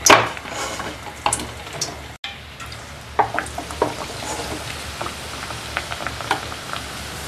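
Banana bajji frying in hot oil in a pan on the stove: a steady close sizzle with crackles and a few utensil clinks, briefly cut out partway through.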